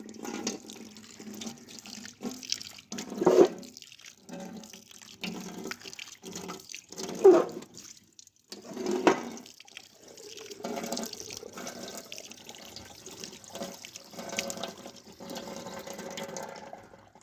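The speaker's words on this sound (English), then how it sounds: "First of all, we will put water over it." Water runs and splashes intermittently from a tap, poured over burnt-on grease on a kitchen stove in several short pours with pauses between, fairly quiet and close.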